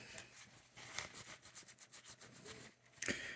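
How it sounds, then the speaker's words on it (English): Old rubber being scraped off a Remington portable typewriter, a faint, rapid series of short rasping strokes in an uneven rhythm, ending with a slightly louder scrape. "I'm going to help scrape some of this off"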